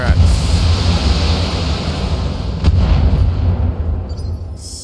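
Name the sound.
mech weapons fire in video game BattleTech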